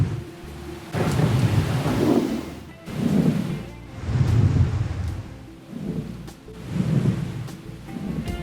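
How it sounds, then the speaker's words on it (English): Deep rolling thunder from a massive thunderstorm off the Florida coast, arriving in repeated low rumbling swells every couple of seconds, steady and moderately loud with no voices. "the enormous size of the thunderstorm off the"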